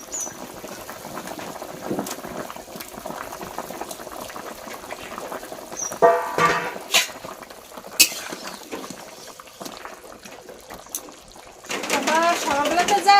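Fish pieces drop into a bubbling curry broth, which burbles steadily with louder splashing, hissing bursts midway and again near the end. A voice speaks at times over the simmering.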